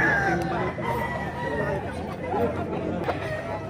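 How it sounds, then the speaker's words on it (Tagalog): Chickens cluck and a rooster crows close by at an outdoor animal market in San Jose del Monte, Bulacan, mixed with people chatting nearby. "Dami talagang manok dito sa ano."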